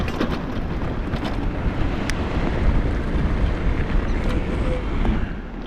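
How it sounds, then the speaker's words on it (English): Wind gusting across a microphone while riding an e-bike near a lake at Santa Fe Dam, a loud continuous rumbling buffet with faint sharp ticks. "It's a little windy though. I don't know if you can hear the wind."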